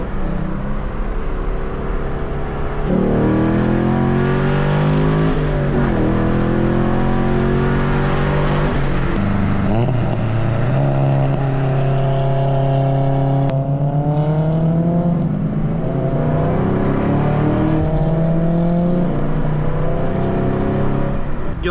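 Chevrolet Camaro engine heard from inside the car, droning loudly and rising through several revving climbs and gear changes over about twenty seconds, with no talk.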